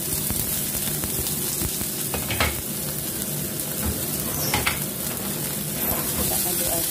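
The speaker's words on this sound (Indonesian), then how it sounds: "Dan kita masukkan daun bawang ke wajan." Steady, close sizzling of spring onions frying in a hot wok, with a few scraping stirs and clinks breaking through the continuous crackle.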